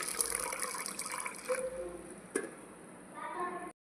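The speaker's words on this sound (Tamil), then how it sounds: "இப்போ வந்து தண்ணி ஊற்றி ஊற வச்சிடலாம்." Water pours over sago pearls in a kitchen vessel to soak them, a steady splashing fill lasting a few seconds that ends abruptly, with a brief clink midway.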